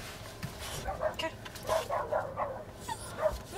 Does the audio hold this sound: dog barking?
yes